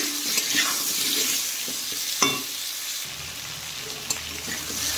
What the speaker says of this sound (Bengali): এখন আমি এর মধ্যে কুমড়ো আর আলুটা প্রথমে একটু ভেজে নেব